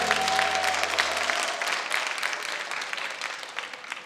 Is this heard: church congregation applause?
yes